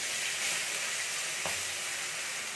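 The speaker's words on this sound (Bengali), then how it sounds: "পেস্টটা দিয়ে দিলাম দিয়ে ভালো করে আমি তেলের সাথে ভালো করে ভেজে নেবো" Spice paste frying in hot oil in a pan while cooking a cabbage and red lentil dish, giving a steady, even sizzle with one brief clatter of stirring midway, close and fairly quiet, no talking.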